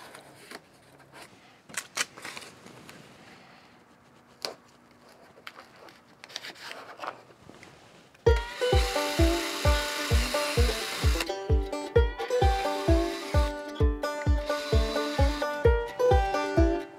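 A drill whirs briefly drilling pilot holes through a drilling guide, among scattered clicks and handling noises, then a loud, steady rhythmic pulsing machine sound takes over for the second half.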